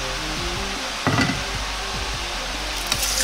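Oil heating in a frying pan before yakisoba noodles go in, a steady low sizzle throughout with a brief louder crackle about a third of the way in.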